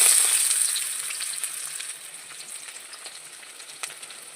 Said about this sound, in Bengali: তেলটা আমার গরম হয়ে গেছে এর ভেতরে আমি পেঁয়াজ কুচি দিয়ে দেবো